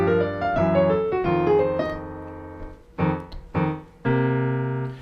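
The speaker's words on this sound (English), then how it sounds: "Improv technique number 1 uses arpeggiated minor 7th chords like this." Piano improvising with arpeggiated minor 7th chords, rippling broken-chord figures followed by a few separate struck chords that ring out clearly, played alone and close with no voices.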